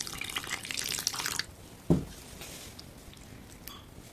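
Water pours into wheat flour batter for dosa, a splashing trickle for over a second, then a single knock and quiet stirring sounds.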